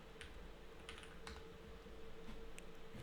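Keyboard typing plays back from a video, a few scattered key clicks over steady background hiss, faint and with no voices.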